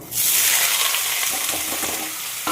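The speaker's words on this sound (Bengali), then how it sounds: "কালো জিরে ফোড়ন দিয়ে দিচ্ছি" Black cumin seeds dropped into hot oil for tempering burst into a loud, close, hissing sizzle that starts abruptly and settles into a steady crackle.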